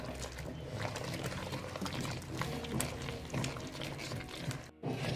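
Water pouring into rice flour in a pot while making rice papad dough, a close, continuous liquid trickle and splash with faint stirring knocks.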